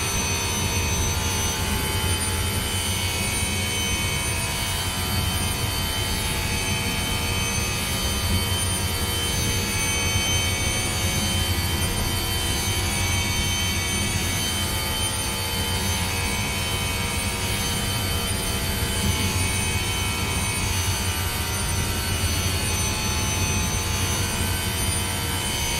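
In-car engine sound of a NASCAR 22 stock car racing at Daytona, a loud, unbroken high-pitched whine like a jet dryer or power saw, steady for the whole stretch with no voices.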